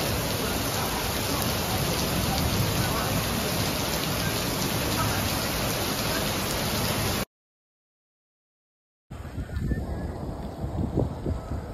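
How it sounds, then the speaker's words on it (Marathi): Heavy rain pours down in Dubai city as a dense, loud, continuous roar. After a brief gap of silence it returns lighter and more distant, with occasional louder drops. "तुम्ही दुबईमध्ये धुवाधार पाऊस पडायला आहे"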